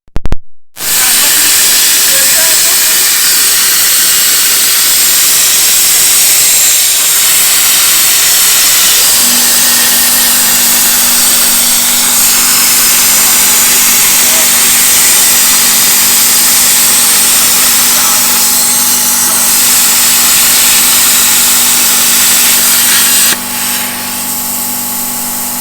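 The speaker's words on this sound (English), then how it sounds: "Fine tune it with the grinder." An angle grinder works steadily and loudly on metal during a roll cage build for an abandoned Ford Fiesta XR2. Its harsh, continuous whine and hiss run almost unbroken for the full stretch, with a slight change in tone near the end.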